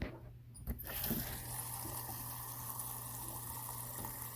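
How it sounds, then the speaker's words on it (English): Running water pours steadily from a tap into a pot holding jar sealing lids, a continuous splashing hiss after a brief clunk at the start. "all the sealing lids go into a pot with some water"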